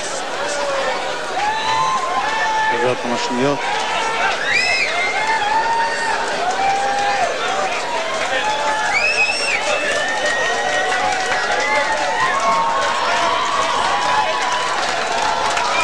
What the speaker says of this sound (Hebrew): הקהל לא ממש מוחא כפיים בהיסטריה